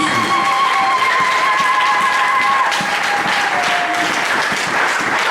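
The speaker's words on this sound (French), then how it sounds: "Acclamons le Seigneur notre Dieu." Church congregation applauding and cheering during a French-language worship service, a loud, dense, sustained wash of clapping that fills the whole stretch with no pauses.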